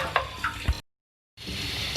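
Potatoes and peas frying with beef in a handi, a short stretch of close sizzling with a few stirring scrapes, broken by a brief silent gap before the hiss resumes.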